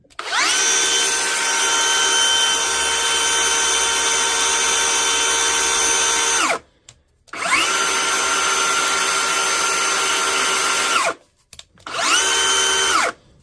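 A repaired DeWalt cordless power tool, battery-powered, runs in three loud, steady whirring bursts, roughly six, four and two seconds long, separated by brief pauses, with no talking.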